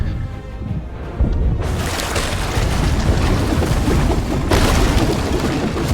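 A ship cannon in a pirate ship video game booms once, followed by a broad rush of noise like sea and wind that swells again later, loud, with no voices.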